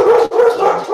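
A dog lets out a loud, close, drawn-out bark with a brief break in the middle, sounding almost like a howl or whine.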